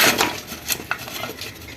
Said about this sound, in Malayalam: ഇനി നമുക്കിതൊന്ന് ഇളക്കി കൂട്ടാം.